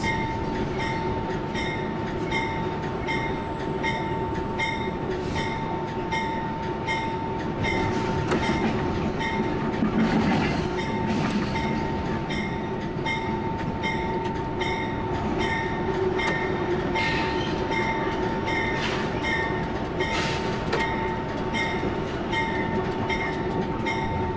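A freight train rolls steadily along the rails as heard from inside the locomotive cab, with a constant engine drone, a sustained tonal hum and rhythmic wheel clatter running unbroken throughout.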